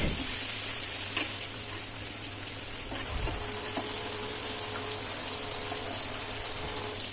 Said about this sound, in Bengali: পেঁয়াজ কুচি দিয়ে দিয়েছি তেলের মধ্যে